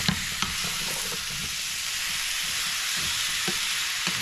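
Pumpkin and shrimp sizzling in a pan while being stirred, a steady frying hiss with soft scraping knocks from the utensil at intervals, close and fairly loud.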